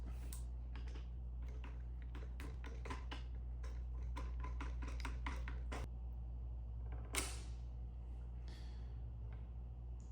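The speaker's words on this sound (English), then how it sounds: "I'm going to hold this in place, remove this bolt, and it'll come out and I could just easily replace it" A motorcycle clutch lever pivot bolt on a GSXR being worked loose, with a burst of small metallic clicks and ticks from tools and parts, then quieter handling over a steady low hum, close by and faint.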